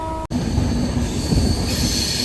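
A Vande Bharat sleeper train on the Kamakhya–Howrah run passes close by, a loud continuous rumble with wheel squeal and rail noise that begins abruptly after a brief gap and holds steady throughout, with no talk.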